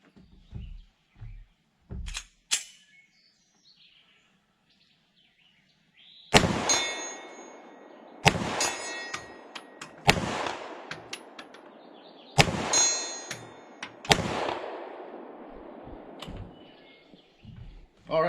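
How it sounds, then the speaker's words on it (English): Smith & Wesson M&P 2.0 Compact Carry Comp 9mm pistol shots fired at a steel plate 60 yards away outdoors: five sharp, loud reports spaced a couple of seconds apart, some followed by a faint distant metallic clang, with brief talk before. "got a 60-yard plate out there. Kind of hard to see, but we'll take some shots"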